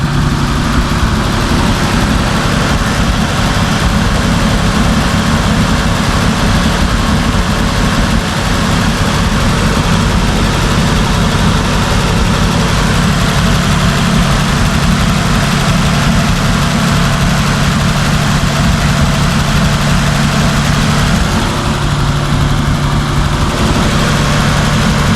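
A 1950 Dodge Meadowbrook engine idles steadily and loud with a deep, even rumble after a carburetor and accelerator pump repair, continuous close throughout with no talk.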